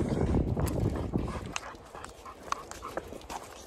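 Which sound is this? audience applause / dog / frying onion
dog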